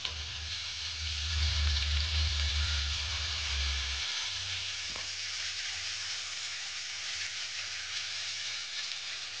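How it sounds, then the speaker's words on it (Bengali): Bitter gourd (karela) frying in a pan for a Bengali bitter vegetable dish, giving a steady close sizzle and hiss with a low rumbling hum that drops out near the four-second mark, all without speech. "করলাটা ভাজতে 2 মিনিট সময় লাগবে।"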